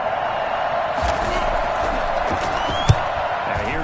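A video game American football crowd cheers and applauds for the defense, a steady broad roar with scattered whoops and one sharp slam near the end.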